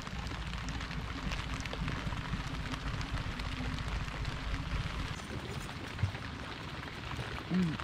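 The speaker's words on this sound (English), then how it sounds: "Just a rainy day in Canada." Steady rain falls on a foggy, windless day during a fly-in fishing trip in northern Quebec, Canada, a dense continuous patter close by with a faint thump near the end.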